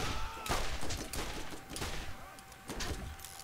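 Rapid bursts of gunfire from Borderlands crackle in quick succession, sharp and dense, with close impacts over a short stretch of combat.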